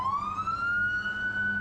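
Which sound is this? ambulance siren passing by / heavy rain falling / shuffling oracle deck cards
ambulance siren passing by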